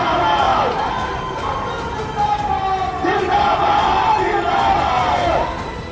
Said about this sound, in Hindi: भीड़ जुटेगी, कार्यकर्ताओं का शोर होगा